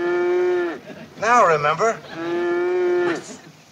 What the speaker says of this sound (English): Sounds like a cow's in there.